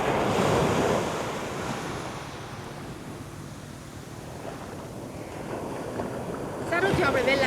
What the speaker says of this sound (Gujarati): આટલા મોજા આવે છે ને દરિયો એક્ટિવ છે